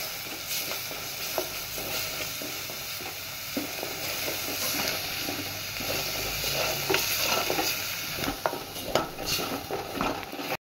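Garlic-coriander paste frying in leftover fish-frying oil for a fish fry, a steady close sizzle with repeated scraping stirs and clinks of a spoon against the pan.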